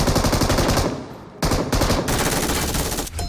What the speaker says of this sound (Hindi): पीछे से एक फायर आता है मेरे को